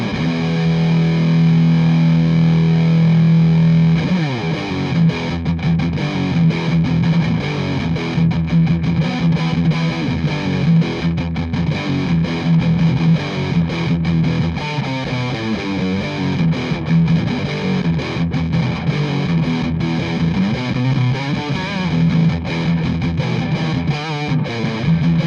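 An electric guitar runs through a Hamstead Odyssey drive pedal set for a scooped metal tone. Loud, thick distortion chugs and rings steadily for the whole stretch, with no voices.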